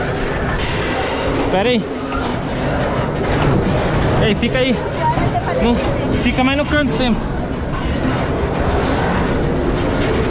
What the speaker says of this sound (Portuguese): pegamos o trem aqui agora